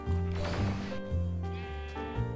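Sheep bleating in the video game Minecraft on a Tekkit Classic server: a few close, wavering bleats follow one another with brief gaps, loud and clear and heard alone.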